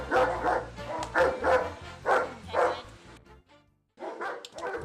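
A dog barks loudly and close by in a steady rhythm of about five deep barks, goes quiet for a moment, then barks again.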